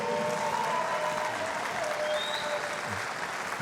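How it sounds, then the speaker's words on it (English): Crowd at a Brazilian jiu-jitsu pro event in Ireland applauding two fighters after a match, a continuous wash of clapping and crowd noise throughout, with faint voices mixed in. "Give it a big round of applause for the two of them again."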